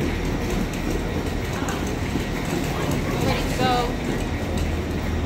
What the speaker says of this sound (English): Okay, so we are on the train.